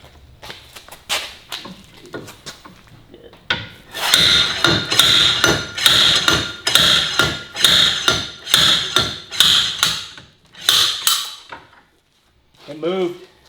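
Slide hammer pulling an axle on a 2022 Polaris RZR Pro XP, about nine loud, evenly spaced metallic impacts in a steady rhythm, then a pause and a final sharp strike with a ringing tail.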